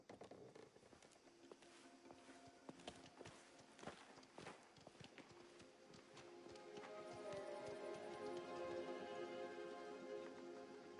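Horse hooves clip-clop in the video game Mafia: The Old Country: faint, steady hoofbeats over a soft ambient bed that swells louder toward the end.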